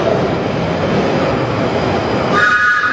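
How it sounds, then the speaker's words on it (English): A Northern Line Underground train arrives at Kentish Town station with a loud, steady rumble and rail roar, close by, ending in a sharp high whine or squeal as it slows. "the first train that's going to make an appearance is going to be a Northern Line service"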